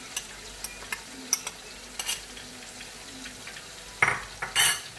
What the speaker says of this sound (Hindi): अदरक लहसुन के पेस्ट को भी हमने ज्यादा नहीं भूनना है।